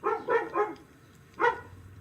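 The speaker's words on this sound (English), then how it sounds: "Why are you barking so hard?" A dog barks in a quick run of three close barks, then one more after a short pause, fairly near and moderately loud, heard in a home kitchen.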